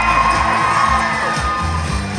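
A roller derby crowd cheers and whoops loudly in a short, continuous burst, many voices shouting together.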